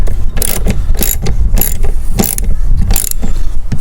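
A ratchet tightening the bolts that fix a Fiamma F45s awning to a Citroen Relay campervan roof, with repeated close, loud clicking strokes in a steady rhythm, about seven bursts.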